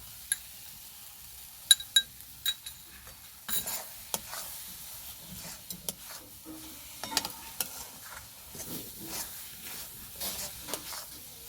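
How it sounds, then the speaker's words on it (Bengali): Carrot sandesh mixture in a pan being stirred as Amul milk is added bit by bit, giving soft scraping and gentle sizzling with scattered spoon clicks, close and fairly quiet, no talking. "অল্প অল্প করে আমুল দুধটা দেব আর নাড়তে থাকবো।"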